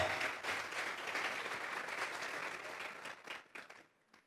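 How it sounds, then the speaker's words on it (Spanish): Applause from a church congregation during a sermon, a dense wash of many hands clapping at moderate volume that thins into scattered claps and fades out. "Vamos a regalarle ofrenda de palmas al Dios de la gloria"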